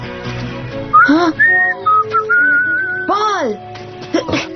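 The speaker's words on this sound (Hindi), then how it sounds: "मैंने आपकी सीटी सुनी।" In a cartoon, a person whistles a bright, melodic tune in a series of short and sustained notes, loud and close, broken by brief pauses and some other voiced sounds.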